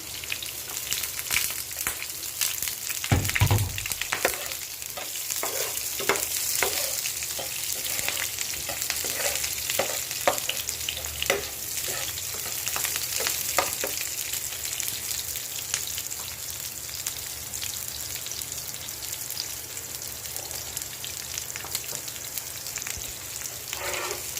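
Onion and garlic sizzle steadily in a hot pan for a budget home-cooked dish, a continuous close frying hiss with occasional stirring scrapes and a brief thump early on.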